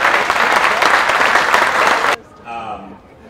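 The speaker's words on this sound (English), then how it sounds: "So we can give them a quick round of applause." Audience applause at an HVACR training symposium, a dense round of clapping for about two seconds that cuts off abruptly, followed by a brief voice.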